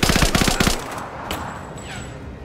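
Rapid bursts of automatic gunfire in the Rise of the Tomb Raider video game rattle loudly for the first second, then fade into a hissing, ringing tail, with no one speaking.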